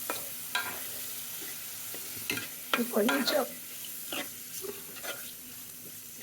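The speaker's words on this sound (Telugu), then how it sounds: "పెసరపప్పు కొంచెం నానబెట్టిన, కొంచెం శనగపప్పు పోపు చేసిన పెసరపప్పు." Chana dal tempering for soaked moong dal sizzles in a pan, with stirring scrapes and bursts of frying. A person speaks briefly over it.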